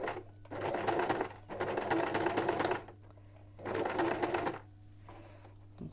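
Sewing machine stitching cord into homemade piping, running in three loud sustained bursts with short pauses between, close and alone.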